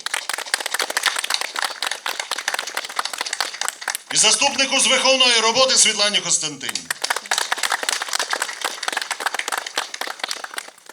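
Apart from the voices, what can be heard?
applause for school deputy directors at Knowledge Day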